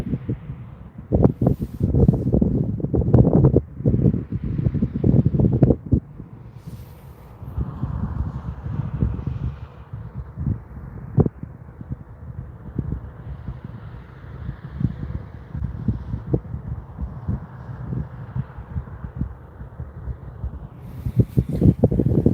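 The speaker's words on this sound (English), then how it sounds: "windy." Strong wind buffets the microphone in heavy, low rumbling gusts, steady and loud throughout with no voices.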